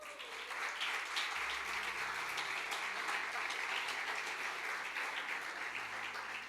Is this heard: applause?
yes